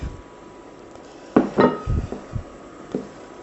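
Soft butter and milk being stirred into a dough for Roscón de Reyes Spanish Christmas bread, a few knocks and scrapes of the spoon against the bowl, close, over a quiet background.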